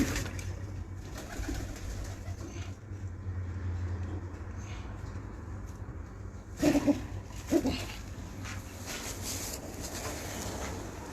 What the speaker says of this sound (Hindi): ये देखिए कि ये कबूतर है,